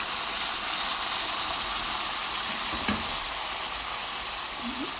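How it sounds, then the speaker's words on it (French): Rice and vegetables being stirred together in a pan, a loud, continuous sizzle and hiss close up, with a faint scrape from the stirring partway through and no talk. "On va mélanger le tout."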